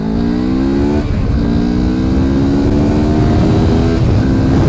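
A CF Moto 650MT motorcycle pulls away hard in sport mode, its engine note climbing steadily in pitch as it accelerates, loud and close, with a brief dip at a gear change and no talk over it.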